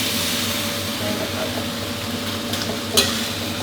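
Pickled bamboo shoots with minced pork, holy basil and kaffir lime leaves stir-frying in a hot pan, a steady close sizzle with a spatula scraping through it and one sharper clatter near the end.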